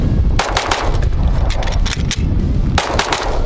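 Rapid bursts of gunfire crack out at a shooting range in quick succession, loud and close, with brief gaps between volleys and no talking.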